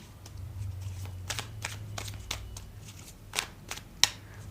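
Tarot cards are handled and shuffled close by, giving soft papery flicks and snaps in an irregular rhythm, with a sharper card slap near the end and a low hum underneath.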